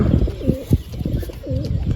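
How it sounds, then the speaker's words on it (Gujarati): A pigeon coos close by in soft, throaty repeated rolls, with a steady hum in the background. "તો જો આવી રીતે કબૂતર છે આ"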